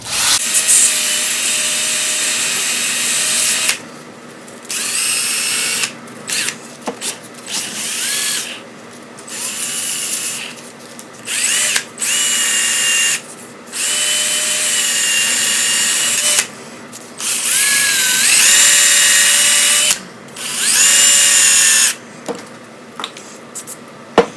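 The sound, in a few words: drill spinning exhaust valve for cleaning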